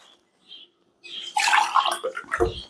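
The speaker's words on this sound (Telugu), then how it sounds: "ఒక అర గ్లాసు నీళ్లు వేస్తున్నాను." Water splashes and gurgles as half a glass is poured into a pot of coconut rice, a short close-up burst after a near-silent moment.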